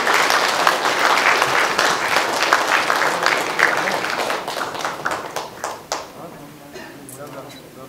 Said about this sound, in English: a big round of applause to the team